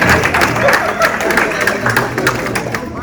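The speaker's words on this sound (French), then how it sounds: "On va applaudir nos..." A theatre audience claps steadily in a brief burst of applause for performers, close and moderately loud throughout.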